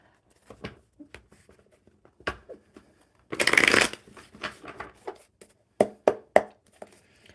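A deck of playing cards is riffle-shuffled close by in one fast burst, with scattered taps and card handling before and after.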